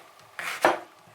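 A knife cuts through an apple being sliced into thin chip-like pieces in a home kitchen, giving a couple of short crisp crunches close by, with no talking.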